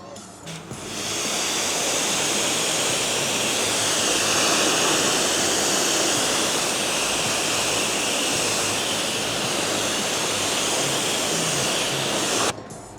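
Water spray rinsing a car after a wash with demineralizing shampoo, a steady close hiss of running, splashing water lasting throughout before stopping abruptly at the end.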